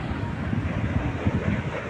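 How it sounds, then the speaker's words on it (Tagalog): Steady, dense wind rumble buffeting the microphone at the Kapurpurawan rock formation in Ilocos Norte, a constant low roar with no pauses throughout. "lakas ng hangin"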